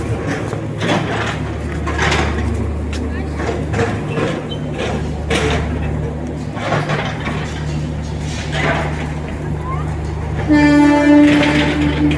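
Train noise at a busy railway station with sixty platforms, a steady low rumble of cars and station bustle throughout, then a loud sustained horn or whistle tone near the end.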